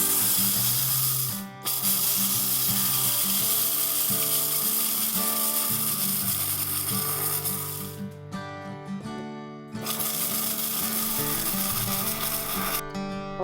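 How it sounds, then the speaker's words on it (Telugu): An electric mixie grinder grinds sago pearls into a sticky paste for tomato vadiyalu, a loud, steady motor whine running in long bursts with a few short stops between them. "నేను సగ్గుబియ్యం మిక్సీ పడుతున్నాను అనమాట, జిగురు కోసం అండి"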